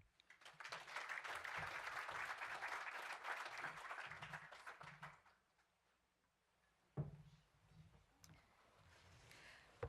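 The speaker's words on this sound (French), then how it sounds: "Ça doit être la raison pour laquelle les applaudissements ne sont pas très nourris" Applause from a conference audience at an early-morning forum opening, a dense steady clapping that lasts about five seconds and then fades out, followed by a quiet room with a few thumps and clatters.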